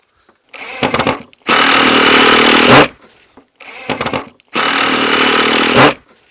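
A power tool drills holes in bamboo for a bench, sounding in two loud, close bursts. Each begins with a short rough revving spin-up, then gives way to a sustained harsh whine and grind lasting over a second before cutting off.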